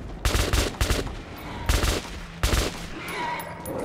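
Gunfire from Metro 2033 Redux, in short bursts of rapid shots, four loud clusters within a few seconds, ringing over a constant game background with no voices.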